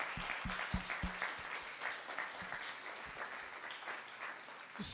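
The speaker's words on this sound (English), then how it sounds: "One more round of applause." An audience at a live talk breaks into sustained applause, a dense wash of many hands clapping steadily, with a few louder individual claps standing out near the start.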